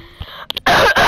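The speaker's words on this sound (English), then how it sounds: "The coughing is even better." A person coughs, with a couple of short, close hacks followed by a loud, harsh burst that nearly fills the clip and briefly dips before continuing.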